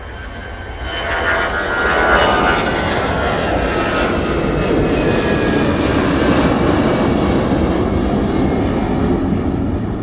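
An airplane at Minneapolis–Saint Paul airport in winter builds into a loud jet roar within the first couple of seconds, then holds a steady, dense rumble to the end.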